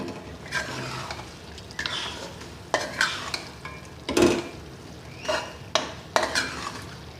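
Mutton karahi gosht with lemon juice and butter is stirred in a sizzling pan. Several distinct scraping, clattering strokes of the spoon stand over a soft frying hiss, close up, with no speech.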